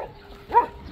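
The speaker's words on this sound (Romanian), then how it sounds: "Avem câini acolo." A single short dog bark sounds at mid-distance over faint background noise, in a town setting near a railway.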